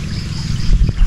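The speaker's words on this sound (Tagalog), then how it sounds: "nagsilabasan na po ang tubig" Water gushes out into a farm fishpond, a loud, close, churning rush with low turbulent rumble and a couple of brief splashy surges toward the end.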